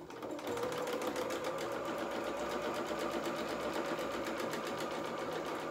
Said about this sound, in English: And now I'm just going to zigzag down this seam just to neaten that edge as well.